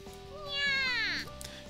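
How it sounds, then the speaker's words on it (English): Angry cat meowing in a visual novel game, a single drawn-out rising and falling yowl lasting about a second, loud and close over faint background music. "That's why the cat's mad."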